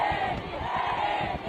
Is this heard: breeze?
no